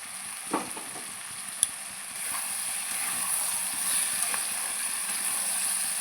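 Vegetables fry in a pan with mustard and chilli paste, giving a steady high hiss of sizzling oil with a couple of sharp utensil clicks early on, close and continuous.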